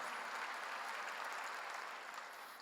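A church congregation clapping together during a sermon, a steady, even wash of many hands that stays at a constant level and sounds somewhat distant and soft.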